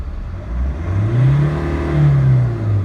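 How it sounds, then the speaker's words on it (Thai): A Nissan Navara D40 diesel engine, fitted with a faulty locked injection pump, revs up and settles in two rising and falling swells. The engine sits close and runs loud and steady, with no talk over it. "เดี๋ยวเราจะลองเร่งรอบดูนะครับ"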